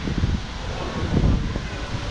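Wind sweeps across a cruise ship's open deck at sea, a steady close roar with low buffeting gusts against the microphone, no talking.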